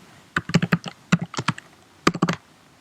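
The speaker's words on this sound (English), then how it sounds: "So we'll type in Jupyter Notebook" Close, crisp clicks come from a computer keyboard as a command is typed during a Raspberry Pi setup, in three quick bursts of keystrokes separated by short pauses.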